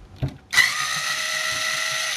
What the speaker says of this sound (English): and unscrew that.